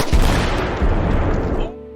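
A rifle shot strikes a jammed bomb in a wartime battlefield scene, and it detonates in a loud, close blast whose booming rumble rolls on for about a second and a half before cutting off.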